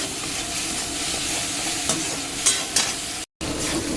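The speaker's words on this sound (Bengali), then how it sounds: "চিংড়ি মাছ ভাজছি।" Prawns frying in a pan, a steady close sizzle with occasional stirring clinks and scrapes, briefly cut to silence near the end.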